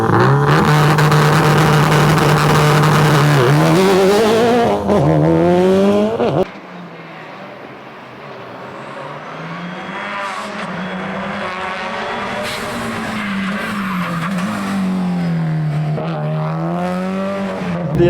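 A tarmac rally drift car roars loudly at close range, its engine note climbing and falling as it drifts, then continues more distantly with squealing, wavering tones.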